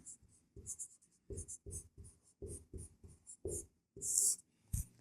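Pen scratching across paper during a Class 10 maths lesson, a series of short rapid strokes and scribbles in uneven bursts, close and fairly quiet with no talking.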